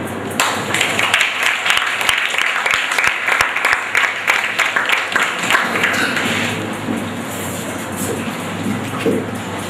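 Children clap after a story is read to them by a state governor. Loud, dense applause with sharp individual claps comes up close and holds steady, then thins slightly toward the end.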